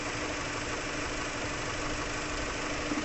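A 2002 Mitsubishi Galant engine idles steadily with its radiator fan running during a radiator flush. It makes a close, constant mechanical hum and whir that holds level throughout, with no talk.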